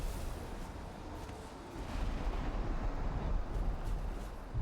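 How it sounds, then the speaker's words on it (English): A deer explodes in the video game Valheim: a dense, roaring blast of low rumbling noise that holds steady and swells louder partway through, with no speech over it. "The deer done exploded."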